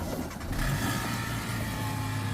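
A Maruti Gypsy off-road jeep's engine runs and revs close by, with a rising surge early on that settles into a steady, throaty hum.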